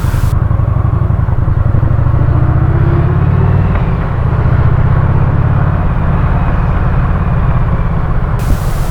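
Motorcycle ridden along N. Montello Street in Brockton on a very cold, windy night, a loud, continuous engine drone heard from onboard with steady wind rush and no voices.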